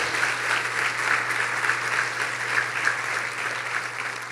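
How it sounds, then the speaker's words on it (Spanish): Church congregation applauding during a sermon, sustained and fairly loud clapping from a large crowd, with a steady low hum running beneath it. "Denle un mejor aplauso a Dios."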